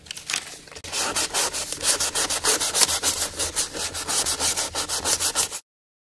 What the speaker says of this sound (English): go ahead and sand the edges with some fine sandpaper